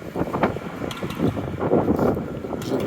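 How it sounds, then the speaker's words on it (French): Outdoor wind gusts buffet the microphone in uneven low rumbling bursts, fairly loud and close, without talk. "Fait qu'il y a un beau petit vent, c'est le fun."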